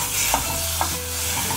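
Wooden ladle scraping and stirring brown fried rice with ground pork in a hot pan, two distinct scrapes over a steady close sizzle, no talking.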